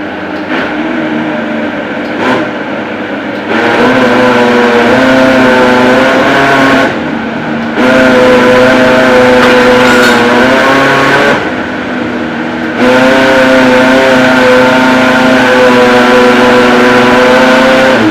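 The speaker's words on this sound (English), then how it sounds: "Then take it down to the blender to smooth very well." Blender blending soaked beans with water into a smooth paste, a loud motor whine running in several long bursts with short pauses between, the pitch shifting slightly as the mixture thickens.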